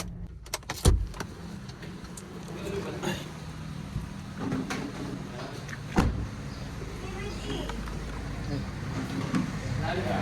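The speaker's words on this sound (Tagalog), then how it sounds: "I-atras ko na lang sa garahe nila yung itong sasakyan." A car backs slowly into a garage near a barangay hall, giving a low engine rumble with occasional thumps and clunks, while faint voices murmur in the background.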